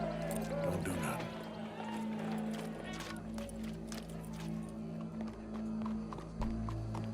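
Horse hooves clopping at a walk in the Red Dead Redemption 2 video game, an irregular steady patter under a continuous low background hum, with voices talking over it.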